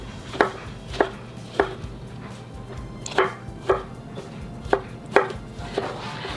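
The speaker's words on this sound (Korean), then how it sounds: "토마토도 그냥 굵직굵직하게 이렇게 썰어 주시면 됩니다" A knife chopping fresh tomatoes into thick chunks on a cutting board for a zucchini spaghetti, with eight crisp, evenly spaced chops close up and no talk.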